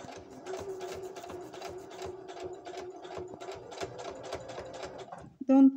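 Sewing machine stitching fabric under the needle, a rapid rhythmic mechanical clatter at close range, stopping briefly before a short burst at the end.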